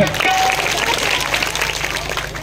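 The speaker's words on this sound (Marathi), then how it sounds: "जोरदार टाळ्या वाजवा" A crowd at a village temple fair's bharud folk performance in Bhalegaon Bazar claps steadily in dense applause for a couple of seconds, with voices mixed in beneath it.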